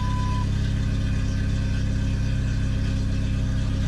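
The engine of a 1997 Jeep Wrangler TJ runs at a steady idle, a loud, continuous low drone close by with no speech over it.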